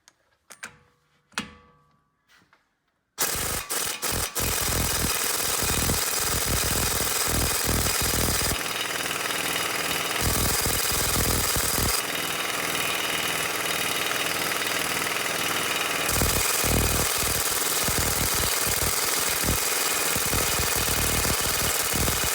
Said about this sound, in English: So I'm gonna take the gun now. I'm gonna loosen up